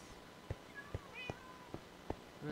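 A cat in a video game meows several times in close succession, short clear mews at fairly even intervals, quiet but distinct over a soft background.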